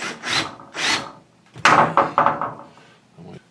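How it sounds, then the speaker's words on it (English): A hole saw in a 1/2-inch drill cuts holes in wood in bursts: rough rasping grinds close by, a few long strokes followed by a quicker run of shorter ones. "I'll go ahead and drill these holes out."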